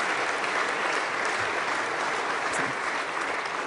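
At a general assembly, an audience gives sustained, dense applause, an even roar of many clapping hands that holds steady at full strength for several seconds with no talk over it.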